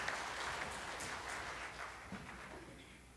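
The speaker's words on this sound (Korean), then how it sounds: "영광의 박수 하나님께 드리겠습니다." Church congregation applauding during a Wednesday worship service, a steady roomy wash of clapping that gradually tapers off, heard somewhat distant.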